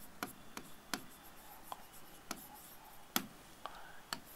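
Chalk or marker strokes on a board while Bengali script is written during a history lesson, coming as a series of short, sharp scratchy taps spread unevenly across a quiet room with no talking.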